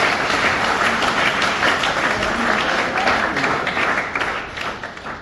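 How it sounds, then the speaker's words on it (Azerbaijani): An audience at a literary project event applauds in a dense, continuous wash of many clapping hands. The applause holds loud and steady, then thins and fades toward the end. "alqışlar."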